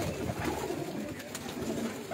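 Teddy pigeons coo on a rooftop loft in Mirpur, a soft steady murmur of several birds close by, with faint voices in the background.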